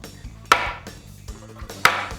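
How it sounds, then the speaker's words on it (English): A hammer smacks a strong sheet of material twice, about a second apart. Each is a sharp, loud, close whack between softer knocks and handling noise. "you can smack this with a hammer and it takes a heck of a shot and it won't break"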